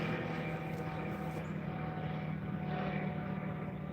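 Small pontoon floatplane flying overhead outdoors, a steady propeller drone with a buzzing engine tone, moderately distant and constant throughout.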